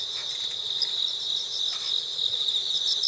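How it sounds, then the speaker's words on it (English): Crickets chirp on a quiet Japanese side street lined with bamboo fencing and gardens in autumn, a loud, close, high insect trill with rapid pulsing that runs continuously against faint street ambience. "Let's listen to the crickets."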